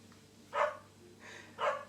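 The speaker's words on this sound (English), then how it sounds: "my dog just keeps, she can smell it too" A dog indoors in a family home gives two short barks about a second apart, fairly close and moderately loud over quiet room tone.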